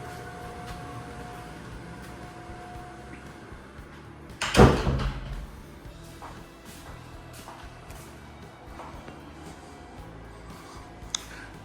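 A side door of a newly built house in Subic Bay opens with a single distinct clunk midway, set against a quiet, steady room background.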